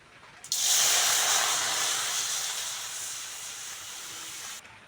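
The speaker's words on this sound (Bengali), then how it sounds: "আমগুলোকে সিদ্ধ বসিয়ে দেবো আম সিদ্ধ করার জন্য বন্ধুরা জল দিয়ে দেবো" Chopped raw mangoes and water go into a hot pot for boiling, bursting into a sudden loud hiss of steam that tapers slowly over a few seconds before cutting off.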